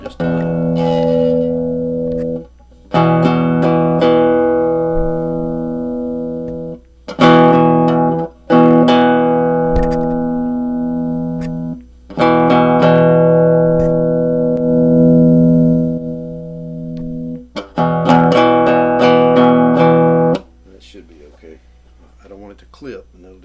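Instrument played through a low-watt LM386 cigar box amplifier turned wide open yet clean, sounding sustained ringing notes in several separate phrases, each ending in a short gap.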